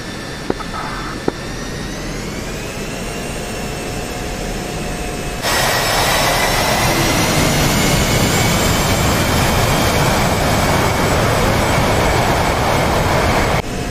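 A military jet in the DCS flight simulator spools up for takeoff: a loud, steady engine roar with rising whine tones that jumps sharply to a fuller, louder blast halfway through and holds, with no talk.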